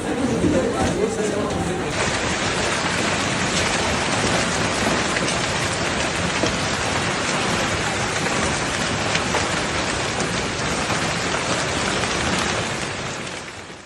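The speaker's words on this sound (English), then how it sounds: "Hail striking metal roofs and car hoods like rapid drumbeats, echoing through streets and avenues." Violent hailstorm pounding metal roofs and car hoods on Paris streets, a dense, loud, continuous hiss-and-patter of impacts that holds steady for the whole stretch, with a faint murmur of voices early on and a slight fade at the end.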